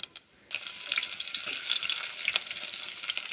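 Mustard and cumin seeds hit hot oil just emptied of fried peanuts, for an okra and peanut curry: after a brief quiet moment, a loud, dense sizzle bursts in and crackles steadily with small pops.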